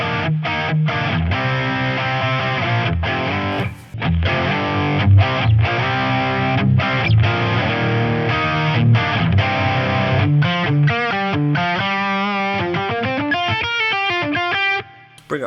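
Electric guitar driven through a Boss DS-1X digital distortion pedal with the gain turned up, a thick, saturated tone played as loud chugging chords that break into ringing sustained notes and a short melodic run, with brief gaps between phrases.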